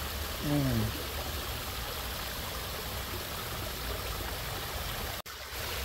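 A waterfall at a botanical garden in Florida gives a steady, close rush of falling water, with a brief birdlike chirp early on and a sharp click near the end.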